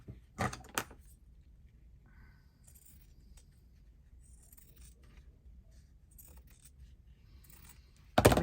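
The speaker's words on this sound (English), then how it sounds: "I'll trim that off." Scissors cutting paper to trim a journal cover, with a couple of quick close snips at the start, faint rustling and handling in between, and a louder snip at the very end.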